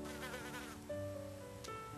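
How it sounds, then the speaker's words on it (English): Bees buzz among native plants in a pollinator garden, a close, steady insect drone with a wavering pitch, with no voices present. "I feel like that I have a variety of different bees."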